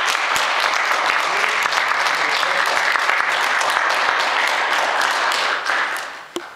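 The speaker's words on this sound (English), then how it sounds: "I think this young man needs a round of applause as well." A church congregation applauds during a Sunday service, a dense, steady round of clapping that holds for several seconds and then fades out at the end.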